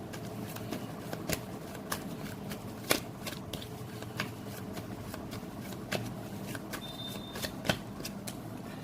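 Tarot cards are shuffled and drawn close by, giving a soft continuous riffle punctuated by sharp taps and snaps of the deck.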